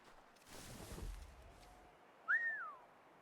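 A video game character whistles once, a brief rising-and-falling whistle near the end, preceded by a low thud and rustle of in-game movement.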